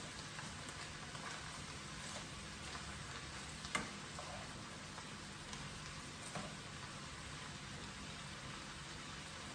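Food fries in a pan with a soft, continuous sizzle and crackle, and faint occasional clinks come from stirring. It runs on without talk.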